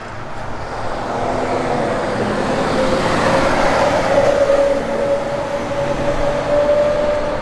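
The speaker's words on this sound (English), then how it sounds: "It's got a good sound and exhaust system on it." A 1986 Ford Mustang LX with an upgraded exhaust system gives a steady, moderately loud rumbling drone that holds constant, with a faint rising tone, and no one talking over it.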